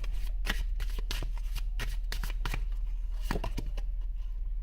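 A deck of tarot cards is shuffled and drawn, giving a close run of crisp riffling flicks and snaps over a steady low hum, with no talking.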